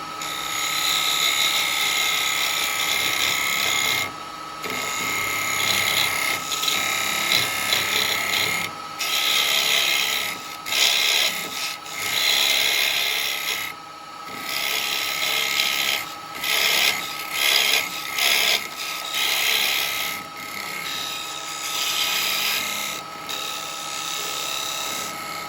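A square carbide tool cuts Purple Heart wood spinning on a lathe, making a loud, continuous scraping hiss broken by short pauses as the tool lifts away and re-engages.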